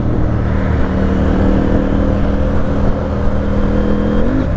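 A KTM Duke 890 R motorcycle engine running hard, a loud, continuous mechanical drone with a steady tone that climbs sharply right at the end, heard close up without speech.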